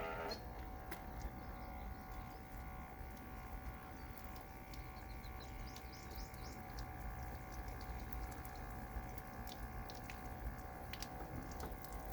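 Water pours and splashes while something is rinsed off beside a pickup tailgate, a steady running flow with small drips and spatters, close and fairly quiet, with no talking.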